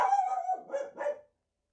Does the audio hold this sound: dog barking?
yes